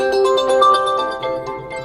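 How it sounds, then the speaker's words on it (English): Ringtone preview playing on a Realme GT8 Pro phone: a bright, melodic electronic tune with layered tonal notes, steady and fairly loud, heard alone without talk. "in order to listen how the particular ringtone sounds, simply tap on it"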